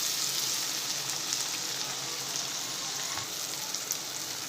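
Tomatoes frying in a pan with golden-browned onions for vegetable Chinese fried rice, a steady close hiss and sizzle crackling evenly with no voices.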